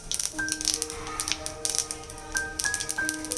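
Whole mustard seeds and dried red chillies crackle in hot oil left from frying small puti fish, with scattered quiet pops and sizzle in uneven clusters.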